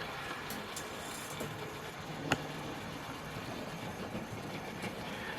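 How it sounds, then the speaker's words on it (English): A Hornby Peckett W4 model locomotive, Centenary Edition number 614, running around a layout, heard as a faint, steady mechanical rumble with light rail clicks and one brief click partway through. "there goes my locomotive going round"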